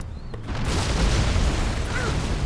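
Artillery strike explosions from the real-time strategy game Command and Conquer Generals: Zero Hour, a dense run of heavy booms merging into a loud, sustained rumbling barrage.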